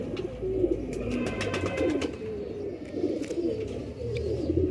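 Pigeons coo softly in hot sunshine, low repeated throaty calls overlapping in an uneven rhythm at close range, with scattered faint chirps and background clicks and no talk.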